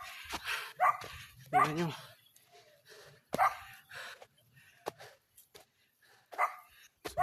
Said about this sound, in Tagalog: Oh! May aso guys. Nakabal tayo ng aso.